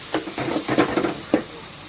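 Close sizzling of tomatoes frying in a pan, with a few stirring scrapes and soft clicks over the steady hiss.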